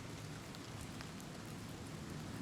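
Steady rain falls in The Elder Scrolls IV: Oblivion Remastered, a dense, even hiss of droplets with no pauses, moderately loud, with nothing else breaking through.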